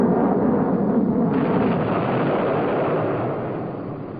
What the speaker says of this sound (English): Field trials like this looked impressive as the shoulder-fired missile locked onto its target.